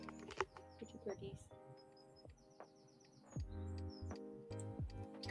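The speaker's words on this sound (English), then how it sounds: "Where are the bird sounds coming from?" Faint birds chirp and coo in the background behind intermittent voices during an online tabletop role-playing session.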